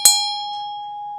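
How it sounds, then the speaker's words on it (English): A heavy metal bell from India is struck once, giving a sharp clang followed by a clear, sustained ringing tone that hums on evenly and slowly fades. "it is a very heavy bell, and it comes from India"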